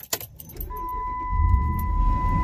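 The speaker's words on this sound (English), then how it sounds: "So what we're gonna do is crank the car up" A 2006 Dodge Ram 1500 pickup is started up close: keys jangle, a steady chime tone sounds, then the engine turns over and settles into a low, rumbling idle with no talking.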